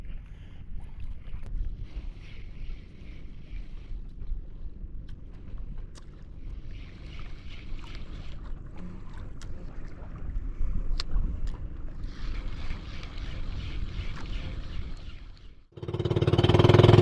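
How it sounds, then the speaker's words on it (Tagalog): Wind gusting in low, rumbling bursts across a microphone on a fishing boat off Palawan in the Philippines, steady and blustery for most of the stretch and swelling into a heavy roar at the end. "Pero mahangin na guys."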